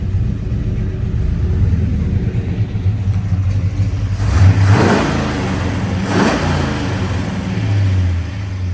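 A 1964 Chevrolet Chevelle Malibu with a 6-speed Hurst manual revs its engine with the exhaust cutout open, a steady low rumble rising into two louder blips near the middle before settling back to idle.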